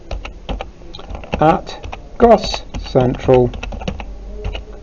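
Rapid clicking keystrokes as an email address is typed on a computer keyboard, steady and close, while a person talks over the typing.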